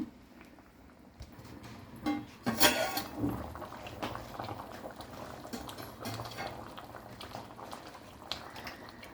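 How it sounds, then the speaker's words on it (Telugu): Tamarind broth with fenugreek seeds bubbles and simmers in a pot, with a brief clatter of utensils near the start and a steady low burble throughout. "చింతపండు పులుసు బాగా మరిగింది"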